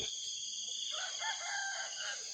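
A rooster crows faintly in the distance over a constant high-pitched insect drone.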